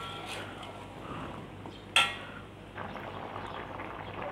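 Bitter gourd kuzhambu being stirred in a cooking pot, with a low simmering wash and a single clear clink of a spoon against the pot.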